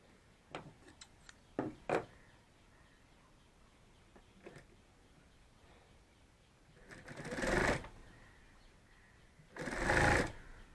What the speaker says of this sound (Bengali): এবার এই পাশটা সেলাই করতে হবে।